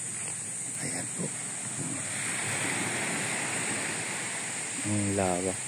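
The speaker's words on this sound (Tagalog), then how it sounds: "kung saan po ay maririnig natin ang hampas ng alon" Waves washing onto a white sand beach, a steady surf roar mixed with wind buffeting the microphone, and a voice briefly speaking near the end.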